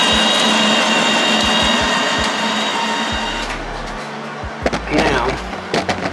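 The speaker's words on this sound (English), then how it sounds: "you'll see everything start spooling." A welder's wire feed motor spools wire while the trigger is held, giving a steady mechanical whir with regular clicking pulses, then a lower hum and some clattering handling noises, close and fairly loud, with speech-like sound at times.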